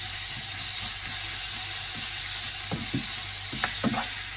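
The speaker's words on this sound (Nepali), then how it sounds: "यसलाई थोरै फ्राई गर्ने" Ginger, garlic and timur fry in a pan for a goat liver dish, a loud, steady sizzle with a few scraping stirs and clinks toward the end, close up with no talk.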